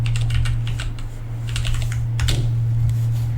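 A command being typed on a computer keyboard, quick bursts of clicking keystrokes close by over a steady low electrical hum, with no talk.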